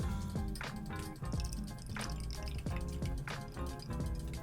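Water is poured into the boiler of a moka pot, giving a continuous close splashing and trickling with repeated dripping bursts, no talking.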